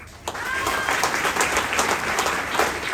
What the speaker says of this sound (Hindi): तालियां तो बजाई हो